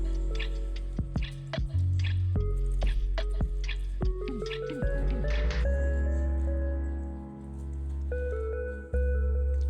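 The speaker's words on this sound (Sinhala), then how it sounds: "ඉතින් මේකේ වතුර එක ඔක්කොම මිරික ගන්න ඕනේ." Homemade mozzarella wrung inside a cotton cloth gives wet squelches and quick drips close up, bunched in the first half, then fading to a quieter, slower squeeze.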